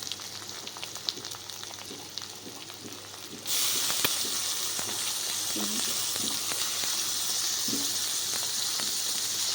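Tomatoes drop into a pan of fried onion for egg bhurji, and the quiet sizzle jumps to a loud, steady frying hiss with occasional stirring clicks, close by, without speech.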